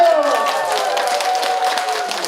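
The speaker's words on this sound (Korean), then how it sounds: "박수!" An audience of about two hundred at a talk concert clapping together, a dense, even wash of applause that carries steadily throughout, with a faint tonal hum underneath and no speech.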